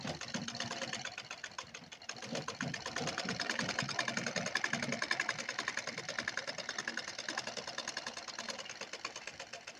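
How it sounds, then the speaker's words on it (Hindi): A sewing machine runs steadily along a chalk line on a plain blouse, laying two-thread stitching with a fast, even mechanical whir and clatter, fairly faint and uninterrupted. "यहाँ पर भी जो चाक का निशान हमने लगाया है इसी पर हम 2 सूत की सिलाई लगाते चले जाएंगे"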